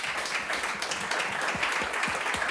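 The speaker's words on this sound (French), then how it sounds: "Est-ce qu'on fait applaudir?" Audience applause at a French business talk on company takeovers, a dense, even wash of many hands clapping throughout, fairly loud and continuous with no voices over it.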